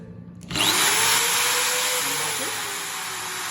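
An electric hammer drill starts abruptly and whines steadily at high speed, loud and close, its pitch settling slightly as it keeps running.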